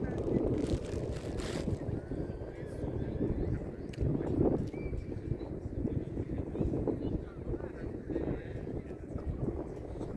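Steady wind rumbles and buffets across the whole stretch, loud and continuous, with occasional voices and movement mixed in.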